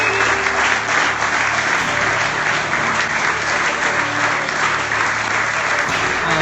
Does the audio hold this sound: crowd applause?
yes